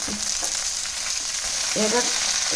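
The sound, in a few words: onions and green chillies frying in a pan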